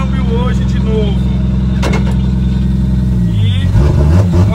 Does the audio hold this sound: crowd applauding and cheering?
no